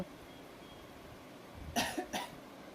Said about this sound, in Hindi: बस तेरा आवाज आ रहा और खांसने का आवाज और कुछ नहीं